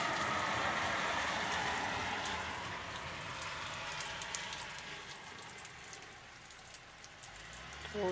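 Summer rain falling, a steady broadband patter and hiss with no talking, easing slightly partway through.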